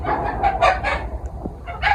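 Tiger chickens and local hens kept together cluck and crow in rapid, close, overlapping bursts, noisy and continuous through the short stretch without talk.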